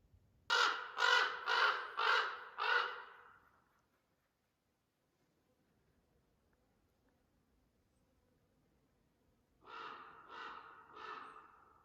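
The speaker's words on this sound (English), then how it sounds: "that's the mama crow, and this is the baby crow. And she just came in here and fed her baby" Crows call near a canyon backpacking trail where an adult is feeding a young bird: a close burst of five harsh, rhythmic caws, a quiet pause, then three more caws, with no talking.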